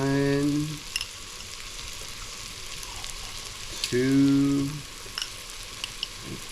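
Fermented shrimp paste (bagoong) dropped into a pan of frying pinakbet vegetables, a steady close sizzle running throughout while a woman counts aloud twice over it.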